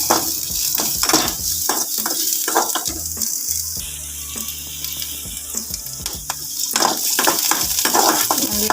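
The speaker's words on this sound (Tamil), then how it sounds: "வெங்காயம் காஞ்சி மிளகா இஞ்சி பூண்டு இது மூணுக்கும் நல்லா அந்த எண்ணெயிலே வதக்கிக்கலாம்" Onion, dried red chili, ginger and garlic sauté in oil, giving a loud, continuous sizzle with repeated stirring scrapes and clinks close by.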